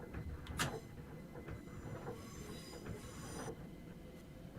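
A Class 455 electric train rolls past in Train Simulator with steady, faint wheel rumble, high squeals and metallic clanks, no voices over it.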